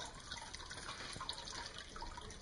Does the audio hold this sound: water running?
yes